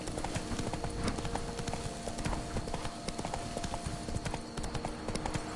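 Horse hooves clip-clopping in the video game The Witcher 3, a steady rhythmic trot of close, crisp hoofbeats continuing throughout at moderate volume.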